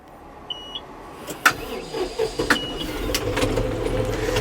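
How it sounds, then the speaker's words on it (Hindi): A farm tractor's engine is cranked and catches: a few faint clicks, then a rough mechanical rumble that builds steadily and stays loud and close to the end. "अब करते हैं ट्रैक्टर को स्टार्ट।"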